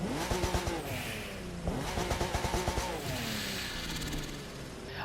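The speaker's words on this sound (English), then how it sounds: "Now, for a turbo sound in the Crew 2, I think that is pretty dang impressive." Nissan 300ZX Z32 Kaido-ou Edition in The Crew 2, its turbo engine revving up and down in repeated sweeps with gear changes and a whooshing boost note, loud and continuous with no talk.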